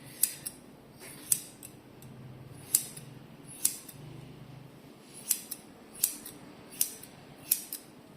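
Scissors snipping hair in a regular series of sharp metallic cuts, about ten crisp close snips with short gaps between them and no voices.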